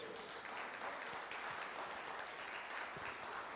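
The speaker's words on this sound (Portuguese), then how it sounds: "Dê um glória a Deus e uma salva de palmas ao nosso Deus." Church congregation giving a round of applause during an evening sermon, a faint, steady, distant-sounding patter of many hands clapping at an even level throughout.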